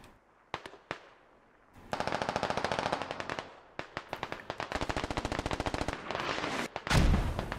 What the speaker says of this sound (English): looks like we've got some shots popping off south side